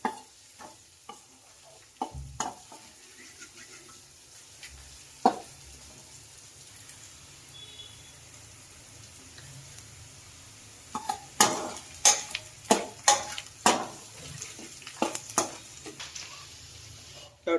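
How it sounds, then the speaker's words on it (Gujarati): Whole spices, onion, garlic and chillies cook in a pan over a low flame for dal fry, giving a soft steady sizzle broken by sharp spoon scrapes and clinks, which come thick and fast in the second half. "આખા મસાલાને ડુંગળી, લસણ, મરચાં ધીમા ગેસ ઉપર જ પકાવવાના"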